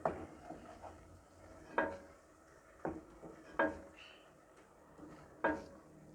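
A spoon stirs and scrapes through brain masala with coriander and garam masala frying in a pan, giving several sharp clinks at irregular intervals over a faint, steady background.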